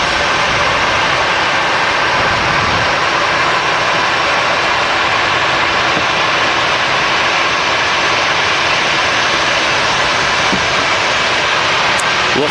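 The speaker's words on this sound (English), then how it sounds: "Cool to see a couple of biz jets taxiing out behind each other though." Business jets taxi out one behind another at Manchester Airport, producing a loud, steady engine roar that holds without a break throughout.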